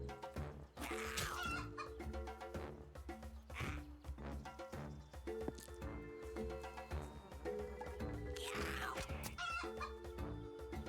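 Chickens in the Dobbel Dungeon video game cluck repeatedly, with crow-like cries mixed over a continuous bed of game music.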